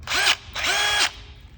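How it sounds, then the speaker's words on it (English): DeWalt cordless drywall screw gun driving screws: two close, loud motor whirs, each rising and then winding down, the second one longer, with a brief pause between and no talk. "I have this great drywall tool. It's cordless,"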